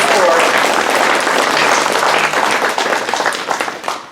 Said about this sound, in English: I give her a round of applause.